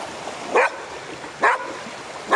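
An excited dog gives three sharp, loud barks spaced about a second apart, close by at a beach, with quiet breathing sounds between them.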